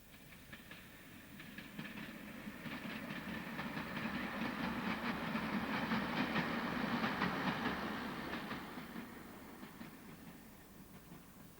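A train passes on the line from Halifax to Manchester Victoria near Thorpe's Bridge Junction at Newton Heath, swelling and fading with rhythmic clickety-clack of wheels over rail joints.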